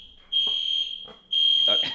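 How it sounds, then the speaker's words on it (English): A fire alarm sounds during a podcast recording, its loud steady high-pitched tone blaring in two long bursts with a short gap, while voices murmur faintly underneath. "fire alarm goes off"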